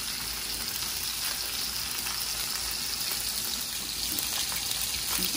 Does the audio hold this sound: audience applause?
no